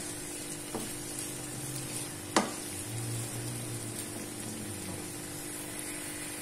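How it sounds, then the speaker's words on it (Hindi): Shredded cabbage and capsicum fry lightly in a pan, a moderate continuous sizzle with a couple of sharp clinks from a utensil striking the pan. No one speaks. "इस पे मैं अब ये फ्राई कर रही हूँ कैबेज और कैप्सिकम।"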